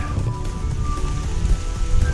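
Rain falls steadily on the Pinhoti Trail near Cheaha, a close, dense patter of drops on surfaces with a low rumbling wash beneath, no voices.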